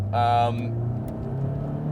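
A 1995 Toyota MR2 Turbo drives along with a steady low engine hum and road rumble, heard from inside the car while a person talks over it.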